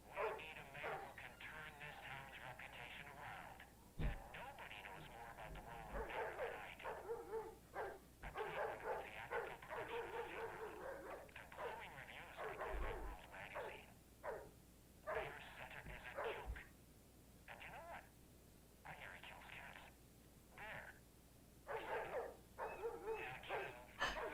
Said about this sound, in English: That dog is really distracting me.